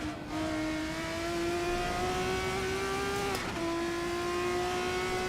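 Race car engine in Assetto Corsa Competizione, a steady high-pitched whine holding nearly constant pitch with a brief dip midway, loud and continuous throughout with no talk.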